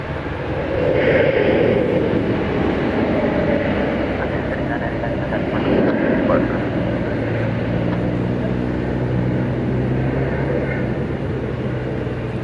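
A plane taking off at night from runway 18 right at DFW Airport, producing a steady broad roar that swells slightly and then holds. Faint radio voices are heard under the noise.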